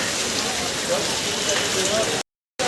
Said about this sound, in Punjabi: ਮੀਂਹ ਪਈ ਜਾਂਦਾ ਲਗਭਗ ਡੇਢ ਘੰਟਾ ਹੋ ਗਿਆ ਮੀਂਹ ਪੈਂਦੇ ਨੂੰ